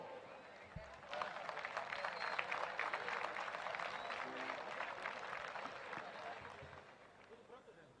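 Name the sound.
audience applause at chamamé festival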